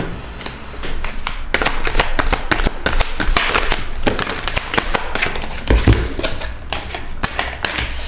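Tarot cards being shuffled, a run of quick crisp riffling and tapping bursts repeating close up for several seconds, with no talking.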